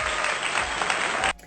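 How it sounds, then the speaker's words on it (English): A burst of studio-style applause, many hands clapping in a dense even wash that cuts off abruptly after about a second. "Can I please have a round of applause?"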